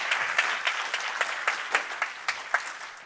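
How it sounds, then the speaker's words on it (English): Fairly quiet, sparse clapping at an AWS Community Day talk in Vancouver, with distinct hand claps recurring at a steady pace rather than a full roar. "Can we have a round of applause"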